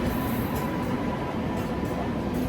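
The Vadodara–Dahanu Road Superfast Express rolls past on the opposite track, a dense, steady roar of wheels and carriages close by, unbroken for the whole stretch.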